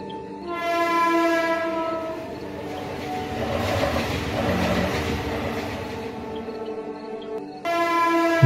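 A train sound effect in a Bengali horror cartoon: a sustained, layered train horn blares loudly, gives way to a rumbling rush of rolling carriages, then the horn returns near the end.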